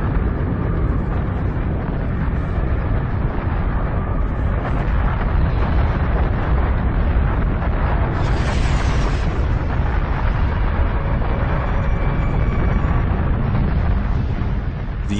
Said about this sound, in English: The asteroid strikes with such immense force, it destroys everything it hits.